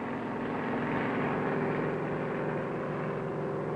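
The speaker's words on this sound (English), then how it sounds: "Soon spotted, and the helicopter makes for the area" A 1960s Westland helicopter flying over the sea, giving a steady, continuous rotor and engine drone at moderate level with no break.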